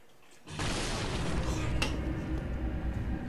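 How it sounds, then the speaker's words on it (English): Explosion in the video game Bloodborne: a sudden broadband burst that swells into a sustained, loud rumbling roar with a sharp crack partway through, continuing to the end. "I saw your explosion over there"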